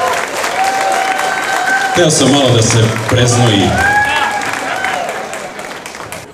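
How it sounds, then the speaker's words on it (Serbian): An audience applauds the champions at a Serbian diaspora humanitarian event in Western Australia, sustained clapping filling the room while someone talks over it. "Još jedan aplauz za naše prvake, molim vas"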